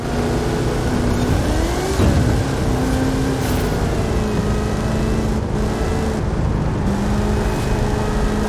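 A monster truck in Forza Horizon 5 with a 540 cubic inch Chevrolet engine and 66 inch Terra tyres drones loudly and steadily, its pitch wavering and climbing with revs and one sharp thump along the way.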